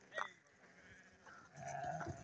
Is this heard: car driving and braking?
no